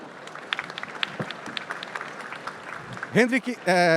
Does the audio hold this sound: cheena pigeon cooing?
no